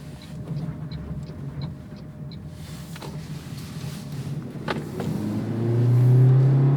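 A 2023 Toyota Prius hybrid engine drones steadily with a low hum, rising into a louder, deeper rumble near the end, with a few faint clicks early on.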